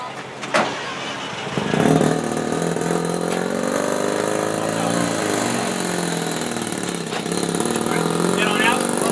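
A car engine starts and revs steadily, with a loud rough drone building after a brief cranking burst and holding near and constant; voices talk briefly over it.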